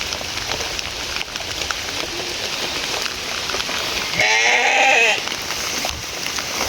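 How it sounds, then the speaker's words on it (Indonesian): Goats bleat in a village during steady rain, one clear wavering bleat rising over the constant patter of raindrops and nearby background noise. "Di sini juga ada kambing ya"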